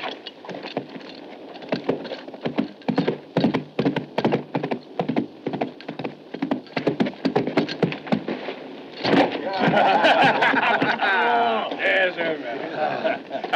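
Hooves clop in a steady, fairly quick rhythm on a hard surface, close by, then a voice starts talking over the last few steps.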